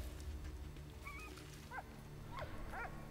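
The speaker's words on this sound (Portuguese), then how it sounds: "Cachorro. Vai, cava aí." A dog in the Valiant Hearts video game gives a few short yips and whimpering barks, spaced apart over a steady low background hum of game music and ambience.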